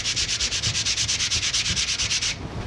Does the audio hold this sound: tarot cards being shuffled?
no